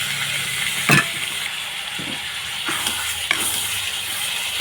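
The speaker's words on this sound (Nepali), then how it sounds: "अब चाहिँ म यहाँ टमाटर हाल्दैछु" Chicken meat frying in a pan as tomatoes go in, a steady broadband sizzle with a few sharp clacks of a utensil against the pan, close and moderately loud with no talking.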